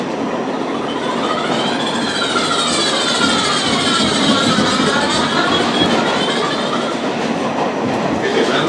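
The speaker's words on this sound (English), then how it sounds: "Look at that train." Continuous loud roar of an R line subway train in motion, with rising and falling motor whine and rhythmic track clatter throughout, no voices.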